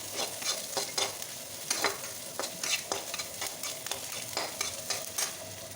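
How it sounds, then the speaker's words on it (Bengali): Onions frying red-brown in a pan as a purée of tomato, ginger, garlic and green chilli is stirred in for a pointed gourd and prawn curry, with a steady sizzle under repeated scraping stirs of a spoon. "পেঁয়াজটা লাল লাল ভাজা হয়ে গেছে আমি এই পিউরিটা দিয়ে দিলাম"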